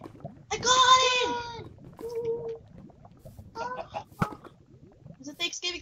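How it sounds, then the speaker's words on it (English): Squawking chicken from Minecraft, a loud burst of harmonic clucking followed by a few shorter calls, amid game sounds and low background noise. "It's a Thanksgiving chicken"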